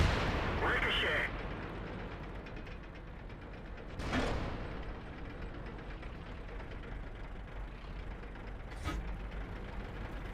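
Tank shells strike armor in World of Tanks: a heavy blast at the start, then a sharp metallic ricochet crack near four seconds and another near nine, over a low, steady rumble of the tank engine.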